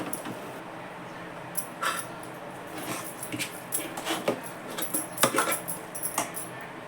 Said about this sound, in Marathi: आता ते मी साळणीने गाळून घेते